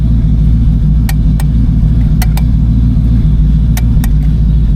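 A 1965 Ford Mustang engine idles after a cold start, a loud, close, steady low rumble with a few faint sharp clicks over it.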